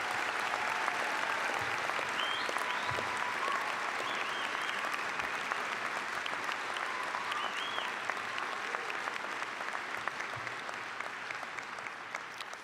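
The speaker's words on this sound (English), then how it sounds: "Do me a favor, give one more big round of applause to Lori Foster." Sustained audience applause at a 2019 community college graduation ceremony, a dense steady wash of many hands clapping that holds for the whole stretch and fades only slightly toward the end, with no speech over it.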